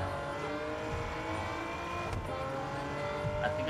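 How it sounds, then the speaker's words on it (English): A racing car engine in a night-driving video game played on a Logitech G29 wheel hums and revs steadily, with a faint tire squeal, playing continuously. "I could hear the goddamn car noise now."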